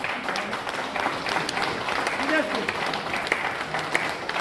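Loud, steady audience applause fills a business seminar hall in Bargarh, Odisha, with crowd murmur and a faint voice mixed into the dense clapping.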